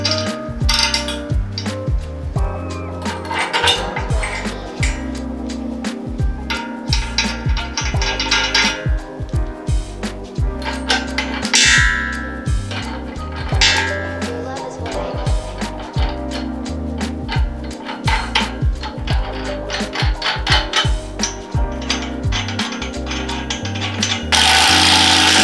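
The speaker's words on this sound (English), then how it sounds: "we're just gonna put the nuts and the washers in on the other sides on all 4 pieces" Nuts and washers are fastened onto the bolts of a Better Body Standard squat rack during assembly, giving repeated close metallic clinks, ratcheting clicks and tool rattles in an irregular rhythm throughout, with no talking.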